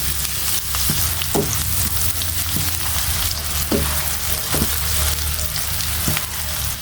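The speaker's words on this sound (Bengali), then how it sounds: "আমি পেঁয়াজগুলো দিয়ে দিছি তো আমি হালকা বাদাম করে নিব পেঁয়াজগুলো" Onions fry in oil until light brown, a steady dense sizzle throughout, punctuated by repeated clinks and scrapes of a spoon stirring the pan.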